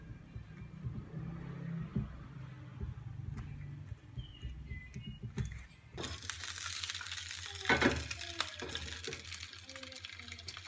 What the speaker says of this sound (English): Cook these sausages really low.